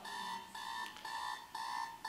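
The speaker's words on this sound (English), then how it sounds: "Just shut the alarm off." An alarm clock rings alone in rapid repeated bursts, a shrill electronic beeping pulsing in a steady rhythm with brief gaps, moderately loud and close.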